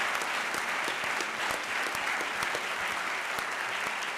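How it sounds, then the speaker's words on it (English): An audience at an Intelligence Squared debate applauds, a dense and steady round of clapping with sharp individual claps standing out, continuing unbroken throughout. "I want to give a round of applause to everybody who's doing that"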